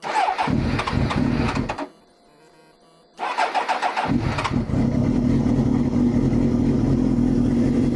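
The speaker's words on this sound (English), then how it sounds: "just quick check if the bike starts" A motorcycle engine cranks, stalls briefly into near silence, then catches and settles into a steady, loud idle close by.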